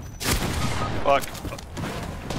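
Gunfire in a video game: a few sharp shots and short bursts crack close by, mixed with a player's voice talking over the action.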